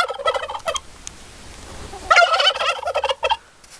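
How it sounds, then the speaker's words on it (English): A turkey gobbles loudly and close, with a shorter call first, a quieter pause, then a long, rapid rattling gobble standing alone. "The turkey gobbles."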